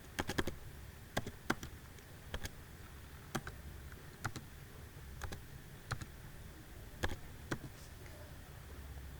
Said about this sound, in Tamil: இதில் யூஏஎன் நம்பர் டைப் பண்ணுங்கள்